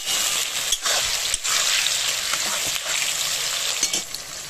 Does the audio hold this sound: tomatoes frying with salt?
yes